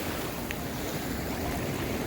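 Ocean surf rolls onto Padang Padang Beach in Bali, a continuous broad roar of breaking waves and wash, steady and moderately distant, with no voices.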